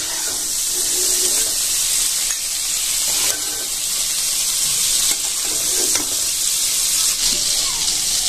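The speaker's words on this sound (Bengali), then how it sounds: "ডাল ভরে নিয়েছি, ভেজে নেব।" Elephant foot yam stalks crackle and hiss in hot oil in a pan, a steady, close frying sizzle with stirring scrapes and faint voices in the background.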